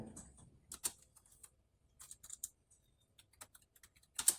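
A new file name being typed on a computer keyboard, with light, close key taps in uneven short bursts and a sharper keystroke at the end.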